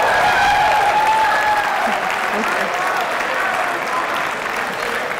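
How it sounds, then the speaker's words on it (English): An audience at an annual media awards show gives itself a steady round of applause, dense and even throughout with a faint voice partly audible beneath. "Give yourselves a round of applause."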